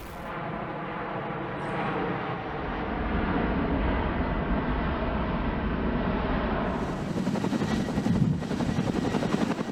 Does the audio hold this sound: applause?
no